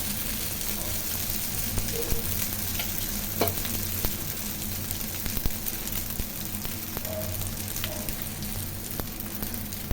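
A dosa cooks in a little oil on a hot pan, giving a low, continuous sizzle with faint scattered pops and ticks. No one speaks.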